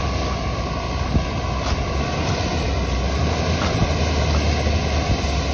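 A Sprinter camper van powers itself out of deep sand tracks on a Spanish beach: a continuous, loud engine roar mixed with heavy wind buffeting, with no voices.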